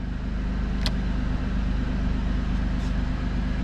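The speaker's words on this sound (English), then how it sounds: "Compressor on." An ARB air compressor runs inside a 3rd gen Toyota 4Runner, a steady low motor drone with a buzzing hum, plus a couple of brief clicks.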